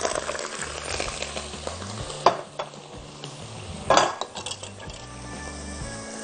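Washed and dried shrimp shells stirred in a very hot pot, giving a loud continuous sizzle with two sharp metallic scrapes and clinks of the utensil against the pot.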